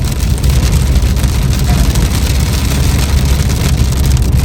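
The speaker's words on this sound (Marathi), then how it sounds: "तुम्ही बघू शकता एकदम जोरात पाऊस चालू झालेला आहे" Heavy rain drums on a car moving along a road trip toward Paris, a dense, loud, steady roar mixed with road and engine rumble throughout.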